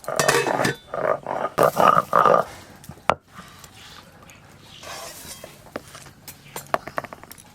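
Khichuri of rice, lentils and vegetables being stirred in a pot, with a cluster of scraping, clinking utensil strokes against the metal early on, then a single sharp knock and quieter scattered clinks.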